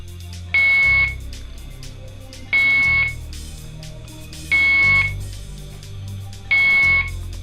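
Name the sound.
persistent electronic beeping alarm in a waiting area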